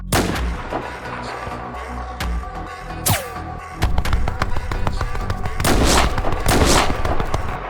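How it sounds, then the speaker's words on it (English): Loud sniper rifle shots in an animated battle, with sharp cracks and booming impacts scattered across a dense, noisy soundscape of explosions and gunfire. "How did you manage to dodge my sniper shot?"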